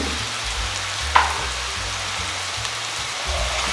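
Onions with salt and turmeric sauté in a pan for chana masala, a steady loud sizzle and crackle running throughout with one brief sharp tap near the start.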